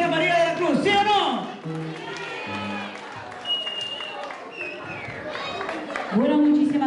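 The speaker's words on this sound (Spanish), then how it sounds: "Gracias por su aplauso" An audience applauds at an anniversary celebration for María de la Cruz in Peru, with scattered clapping and crowd noise under music and talking voices.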